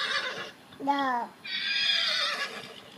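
A child imitates a horse neighing at bedtime: short breathy sounds, then a clear wavering whinny, followed by a longer high, shaky neigh, close and soft.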